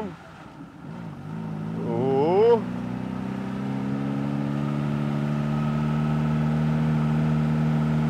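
A car engine climbs in pitch as it accelerates while driving, then settles into a steady, droning hum under engine braking, with someone talking briefly at the start.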